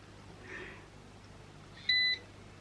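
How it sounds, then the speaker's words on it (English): A ZIIP Halo anti-aging facial device gives a single clear electronic beep, short and steady-toned, heard close up in a quiet room after a faint earlier murmur. "Okay, that beeped."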